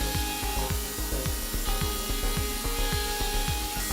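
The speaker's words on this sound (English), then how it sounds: "The neck pocket is now cut out with the 8 mm finishing cutter." A Hammer HNC 47.82 CNC portal milling machine cuts the neck pocket of a jazz bass guitar body with an 8 mm finishing cutter, giving steady whirring with repeated rhythmic cutting pulses, close and continuous throughout.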